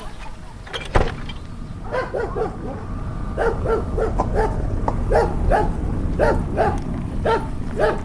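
Several dogs barking repeatedly in a rural village near the Polish border with Belarus, a steady run of close, loud barks and yips over low background rumble, with no talk.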